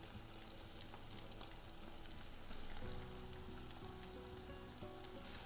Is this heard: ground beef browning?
yes